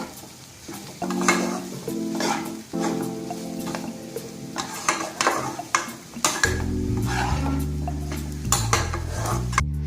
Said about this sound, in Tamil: இப்போ இதுல தேவையான அளவு பெப்பர் சேர்த்துக்கலாம். நல்லா மிக்ஸ் பண்ணிட்டு